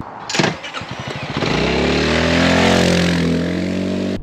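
A Honda ADV350 scooter engine rises from a rough, uneven start into a steady, loud climbing drone as it accelerates, close by and alone without any talk.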